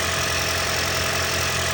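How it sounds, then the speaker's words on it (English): A Lexus CT200h engine idles just after starting, during water pump and thermostat replacement work: a steady, even mechanical hum with a faint vibration throughout, no talking. "All right, just started our engine."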